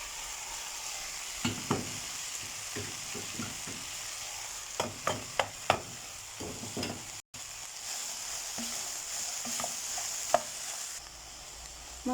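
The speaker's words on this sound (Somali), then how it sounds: "waxaan ku darayaa basal aan soo jarjaray kaarooto iyo basbaas guduud" Chopped onion, carrot and red pepper frying in a pan, a steady soft sizzle with scattered stirring scrapes and clicks, no voices.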